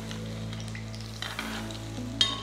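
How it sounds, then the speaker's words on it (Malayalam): Egg bajji crackles in a pan of hot oil, a close, steady sizzle with a low hum beneath and a few small pops and clinks near the end. "ബജി ഉണ്ടാക്കുമ്പോൾ എപ്പോഴും ഇടയ്ക്ക് മേലെ എണ്ണ ഇങ്ങനെ തളിച്ചു കൊടുക്കുക"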